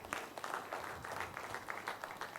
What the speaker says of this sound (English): Give a big hand to everyone. Big round of applause.